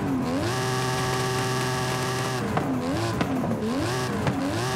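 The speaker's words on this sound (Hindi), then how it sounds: "और क्या आवाज आता है यार ये गाड़ी का, बहुत खतरनाक है।" A Dodge Challenger SRT Demon engine in Forza Horizon 5 roars loud and close, holding a steady high rev before rising and falling in repeated surges as the car accelerates and shifts.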